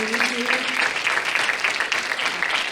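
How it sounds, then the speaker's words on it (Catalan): Sustained applause from an auditorium audience at a Christmas science-park event with comedy monologues and an awards ceremony, many hands clapping steadily while a faint voice briefly carries underneath at the start. "un fort aplaudiment de nou"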